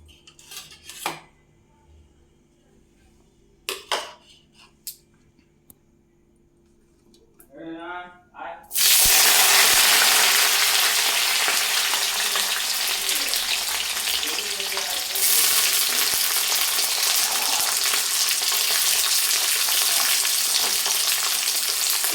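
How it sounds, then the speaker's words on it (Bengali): Chopped capsicum hits hot refined oil in a wok with a sudden loud sizzle that keeps frying steadily, after a few quieter kitchen clatters and brief sounds at the start. "তেল গরম হয়ে এসছে তো এখন আমি এতে দিয়ে দিচ্ছি কেটে রাখা ক্যাপসিকাম"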